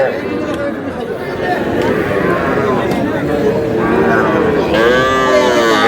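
Cattle, including young bull calves at a livestock market in Pabna, low loudly and repeatedly over a busy crowd of people chatting, with the moos rising and falling in long drawn-out calls.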